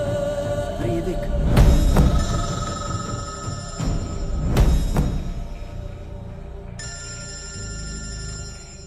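A telephone ringing in a dramatic scene, with repeated bursts of electronic ringing tones, loud and close, and later a second ringtone layered in.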